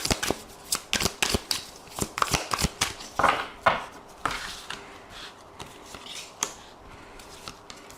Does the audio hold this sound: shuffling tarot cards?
yes